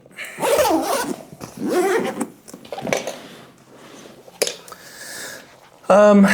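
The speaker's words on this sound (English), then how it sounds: "So let's unzip it." A zipper is pulled along the side access of a Lowepro Flipside BP 400 AW III camera backpack in several rasping strokes, close and loud, with a brief burst of talk near the end.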